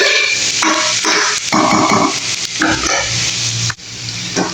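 Garlic fried rice made with white rice, garlic and onion sizzles loudly in a hot pan, with steady frying crackle under repeated scraping and tossing strokes of a spatula during stir-frying.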